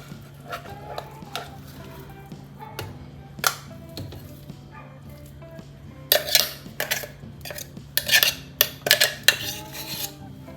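Chicken sausage mixture being mixed in a bowl, with sparse utensil clinks at first, then denser clattering scrapes and knocks, close and unaccompanied by speech.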